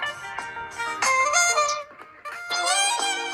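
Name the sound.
Spotify music playing from Samsung Galaxy Watch5 Pro speaker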